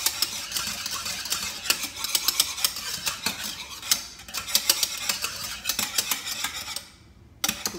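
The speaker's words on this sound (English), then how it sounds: "Continue to stir while the stove is off." A spoon repeatedly stirs and scrapes through thick coquito mixture in a pot on a switched-off stove, making close, busy clicks and scrapes that pause briefly near the end.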